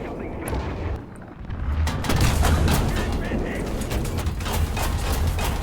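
Gunfire strikes a tank in War Thunder as a dense barrage of sharp cracks and booms over a continuous low mechanical rumble, loud and close.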